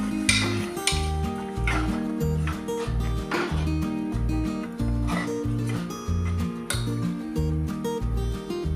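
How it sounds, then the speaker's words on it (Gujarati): A spoon stirs a Maggi rice mixture in a metal pan, making repeated scraping clinks and knocks in a steady rhythm for several seconds over background music. "બરાબર મિક્સ કરી લઈશું."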